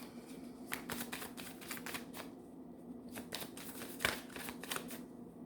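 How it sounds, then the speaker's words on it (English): Cards riffle and snap in repeated quick bursts, crisp and close, with short pauses between shuffles over a low steady hum. "You guys see me shuffling right now."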